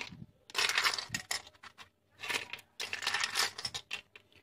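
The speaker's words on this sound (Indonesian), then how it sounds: "Saya tambahkan lagi es batunya." Ice cubes clatter and rattle into a cup for an iced milk drink in two bursts, with smaller clinks between them, close and fairly loud.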